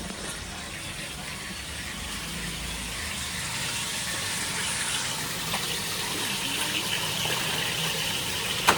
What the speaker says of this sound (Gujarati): પાણી હવે બધું ભરાઈ ગયું છે